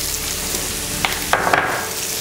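Potato bhaji with carrot, tomato and ghee is stirred in a hot pan, a steady close sizzle of frying broken by a few light scrapes of the spoon.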